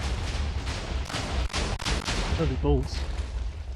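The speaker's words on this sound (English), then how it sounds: "The explosion now reaches the glass." TNT blasts in a Minecraft holiday map go off as a loud run of booming explosions, several bursts in quick succession, with someone talking excitedly over them.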